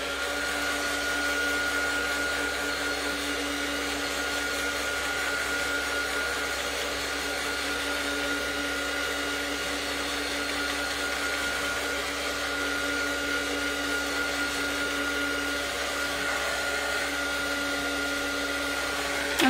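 A hair dryer blows continuously to dry green paint on an art journal page, a loud, steady whirring hum with a constant tone throughout.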